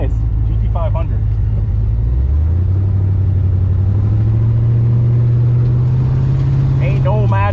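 A Ford Shelby GT500 rumbles loudly at close range, its engine note dropping and then holding a steady idle after hot laps at a roll race, with someone talking over it at the start and end.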